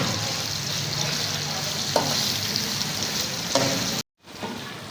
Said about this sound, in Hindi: आलू हम 3 से 4 मिनट के लिए भून लेंगे, अच्छे से फ्राई कर देंगे।